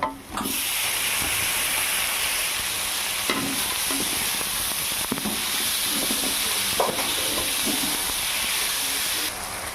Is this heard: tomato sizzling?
yes